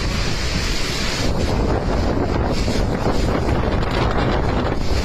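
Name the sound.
storm waves slamming into seawalls during Typhoon Podul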